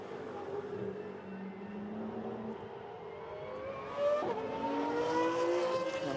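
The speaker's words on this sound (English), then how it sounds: "the noise of the Porsche rather lost behind the squeal of the Pagani Huayra" Sports cars, including a Porsche and a Pagani Huayra, rush past on a race track with rising engine whine and high squealing tires, growing louder toward the end.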